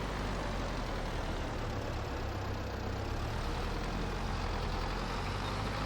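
A tractor engine runs steadily in Farming Simulator 22, a dense continuous rumble near a grain silo, loud and unbroken with no speech over it.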